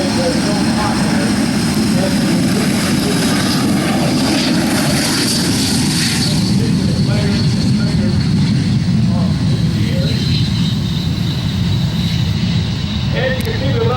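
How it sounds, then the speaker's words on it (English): Aero L-39 jet aircraft from the Czech Republic at a jet demo day at EAA AirVenture Oshkosh, a steady loud engine roar and rumble sustained throughout, with crowd noise and faint voices mixed in. "It is the L-39 from the Czech Republic."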